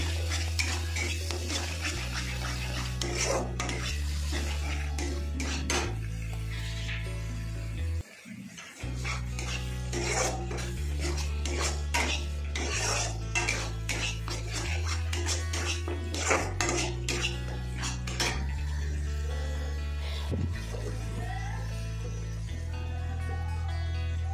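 A spoon stirs Kashmiri chili powder into coriander chicken ingredients in a pot, with repeated scraping and clinking strokes under steady background music.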